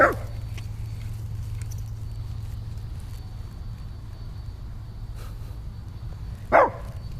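A dog barks sharply twice, once at the start and again near the end, with steady low background hum in between.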